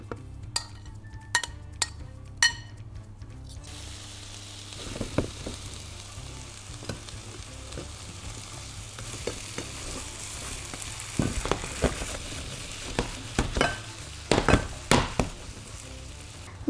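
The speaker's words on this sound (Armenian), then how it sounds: "Քանի որ արդեն տապակը տաք է, ես կարող եմ ավելացնել հավը։" Chicken pieces dropped into a hot pan, frying with a steady sizzle and sharp spits, joined by occasional clinks of utensils against the pan, close up with no talking.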